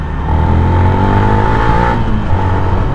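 A Kawasaki ZX-25R four-cylinder motorcycle engine revs loud and close, a steady high-pitched whine that rises and holds, dips briefly, then climbs again.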